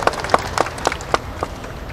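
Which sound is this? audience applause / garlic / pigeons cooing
audience applause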